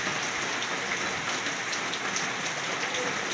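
Heavy rain pouring steadily outdoors, a dense continuous hiss of drops on surfaces, close and loud throughout with no break.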